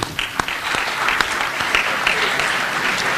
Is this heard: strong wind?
no